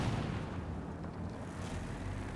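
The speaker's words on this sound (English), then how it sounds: "a shit ton of arty just raining down destruction" Artillery barrage pounding down in Company of Heroes 2, a dense continuous rumble of distant blasts and booms rolling together without pause.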